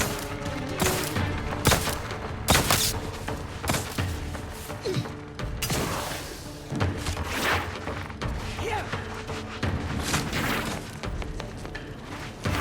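Gunfire in The Outer Worlds 2 cracks out in dense, rapid bursts, with sharp repeated shots, heavy thumps and mechanical clatter crowding together, loud and near, broken by brief pauses.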